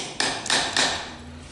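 Three quick, sharp metallic hammer taps strike a rusted universal joint in a rust-belt driveshaft, evenly spaced and close by, with nothing else heard around them.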